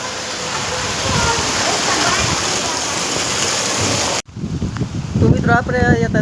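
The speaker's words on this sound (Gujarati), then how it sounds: "જોઈ લો પાણી જાય છે એમાં આપણે ગામડામાં ઓકરો કહીએ એટલે કે નદી" After heavy rain, floodwater rushes through a village stream in a loud, unbroken roar for about four seconds, then the sound cuts abruptly to quieter surroundings with people talking.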